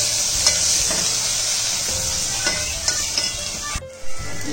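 Coriander-cumin powder fries and sizzles steadily in a pan for egg biryani, with a bright continuous crackle, occasional stirring scrapes, and a brief pause near the end before the sizzle resumes.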